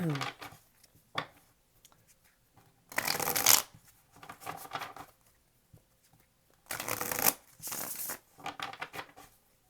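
Tarot cards shuffled in two loud riffling bursts, each followed by softer bridging and tapping, with quieter handling sounds in between.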